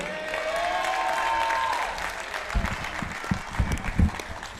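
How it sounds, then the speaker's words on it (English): Applause rises from a crowd at a boys' basketball game after a brief tone fades, clapping growing louder and more scattered near the end, with faint background chatter. "Let's have a nice round of applause."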